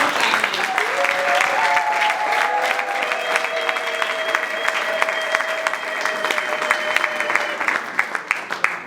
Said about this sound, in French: Des applaudissements pour nous.